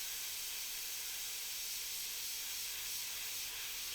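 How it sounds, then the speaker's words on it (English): Spray paint hisses steadily from a can as red is sprayed onto a circle, one continuous, fairly faint airy spray with no pauses. "so I'm going to spray the circle."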